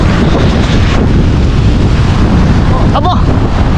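Strong wind roars at sea, buffeting the microphone in a loud, continuous rush with waves and boat noise beneath and a brief cry near the end.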